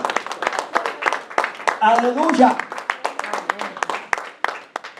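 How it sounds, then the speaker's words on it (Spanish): A church congregation claps in sharp, rhythmic bursts, loud and close, while a voice calls out over the clapping in the middle. "Yo que usted le daba ese aplauso al Señor."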